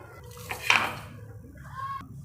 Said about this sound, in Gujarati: હવે એને આપણે ધોઈ લઈશું